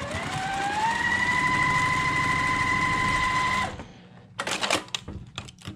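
A home sewing machine stitches across the corner of a quilt block, its steady motor whine rising in pitch and holding for several seconds before it stops abruptly, followed by a few light clicks and handling noises.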